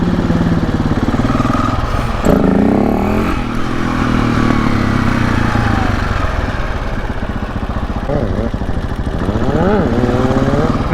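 A motorcycle revving hard through first gear on wheelie power-ups, loud close engine with several rising pitch sweeps as the throttle opens and eases, running continuously.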